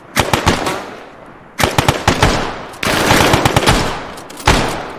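Automatic gunfire in a WWII-style war video game, Russians in a street ahead and trenches nearby: repeated loud bursts of rapid shots in several volleys, sharp and close, with no talk over them.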